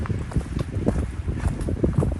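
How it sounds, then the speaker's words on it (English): Gusty wind buffets the microphone atop Clingmans Dome, a mountain summit on the Appalachian Trail, producing a continuous low rumble with uneven thumps and no voices. "It is quite windy here on top of Clingmans Dome"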